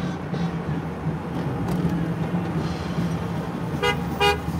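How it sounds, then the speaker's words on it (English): A car horn honks in Las Vegas traffic, two short, loud toots near the end over a continuous bed of road noise and background music. "Guy's honking his horn to the music."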